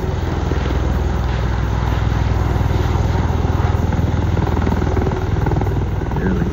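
A helicopter landing at an airshow rehearsal, its rotor thumping in a loud, rapid, continuous pulse with a heavy low engine drone, close and steady throughout.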